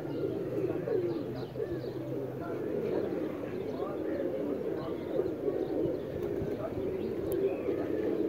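Sialkoti teddy pigeons coo softly and repeatedly in a low, throaty murmur, with occasional faint chirps and a person talking in the background.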